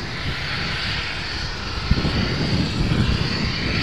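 Boeing 747 jet engines at Amsterdam Schiphol airport make a loud, steady roar with broadband rumble and hiss throughout, from an airliner heavy with fuel, with no voices.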